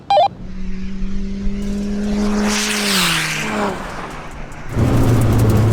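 A drag race between a 500 bhp tuned 1.9 TDI diesel Seat Ibiza and a 500 bhp BMW 330D: a loud rising engine whine sweeps past mid-clip and falls away, followed by a rough, rumbling engine close by.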